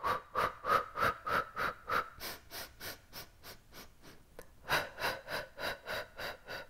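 Rhythmic, audible breaths in and out during a Pilates exercise at home, close and regular with a short pause midway before the pattern resumes.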